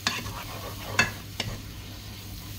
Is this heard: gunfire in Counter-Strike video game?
no